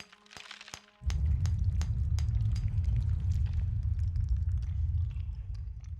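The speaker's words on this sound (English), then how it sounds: "Use the hammer and chisel to break the weakened wall." In a fantasy role-playing game, a hammer and chisel break through a weakened wall: a brief sharp strike is followed by a loud, sustained crumbling rumble of collapsing stone that slowly tapers off.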